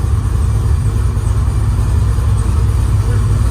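A Chevrolet C10 shop truck's engine running hard in burnout mode, a loud, steady low rumble filling the whole stretch without obvious breaks.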